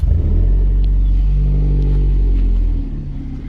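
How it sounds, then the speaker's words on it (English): A Pontiac Solstice on a budget project idles with a loud, deep exhaust rumble, steady and close with no misses, easing slightly quieter toward the end. "This is how a car currently sounds and runs."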